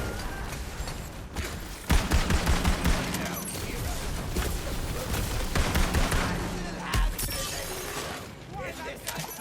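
Rapid hip-fire gunshots in the video game Tiny Tina's Wonderlands, a dense run of sharp bursts over a busy game soundscape, while a player talks over them.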